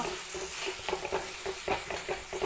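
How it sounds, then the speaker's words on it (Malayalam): Fish masala being stirred in a pan, heard as soft, rhythmic scraping strokes over a quiet sizzle, close and fairly faint, with no voices. "എല്ലാം കൂടി ഒരുമിച്ചിട്ട് കൊടുത്തു നന്നായിട്ട് ഇളക്കി കൊടുക്കുക"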